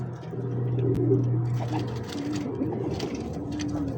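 Low, rolling coos from a long-distance racing pigeon in a small loft, repeated close by in soft throaty phrases with a faint watery background.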